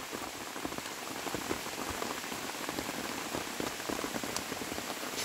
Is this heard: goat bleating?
no